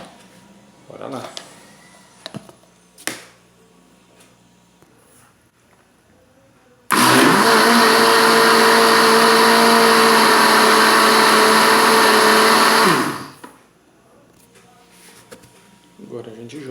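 Blender whirring at high speed through an almond mixture for a short burst of about six seconds, loud and steady, with faint talk and kitchen clatter before and after.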